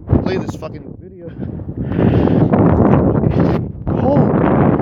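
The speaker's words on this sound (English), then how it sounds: "you guys could probably hear the wind in the background" Wind blowing outdoors in Saddle River County Park on a cold day, a steady rushing roar buffeting the microphone and swelling louder in the second half, with a person talking over it.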